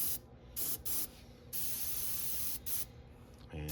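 An airbrush sprays in bursts of airy hiss, several short puffs followed by a longer continuous spray, close and fairly quiet.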